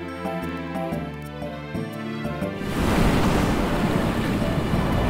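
A giant whirlpool's ocean roars in the Inazuma Eleven 2 video game, as a loud broadband rush of surging water and wind that swells in halfway through, replacing a tonal musical passage.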